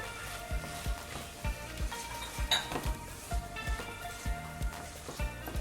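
Spoon stirring ingredients together in a pot, with regular soft scraping and knocking strokes roughly every half second over a low kitchen background hiss.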